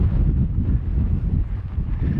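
Strong, steady wind gusting across a hillside on the Isle of Skye, buffeting the microphone with a continuous loud low roar and no break for the whole stretch.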